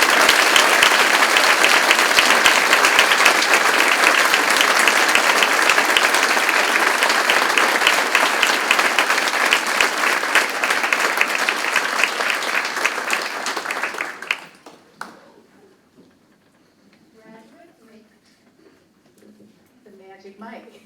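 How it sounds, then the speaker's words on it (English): Sustained applause from a large audience at a graduation convocation ceremony, loud and dense for about fourteen seconds before dying away into quiet room sounds. "Another round of applause."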